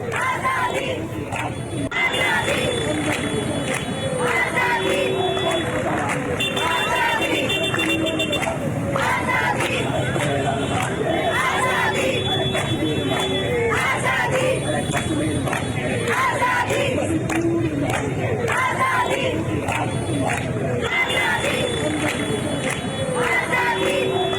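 Protest crowd at Jadavpur chanting Kashmir azadi slogans, a loud massed call-and-response chant repeating in a steady rhythm, close and continuous with crowd noise throughout.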